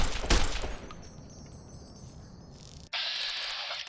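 A brief burst of gunfire aimed at a giant worker ant in Fallout: New Vegas, with a loud shot at the start trailing off into quieter rumble, then a sudden steady hiss near the end.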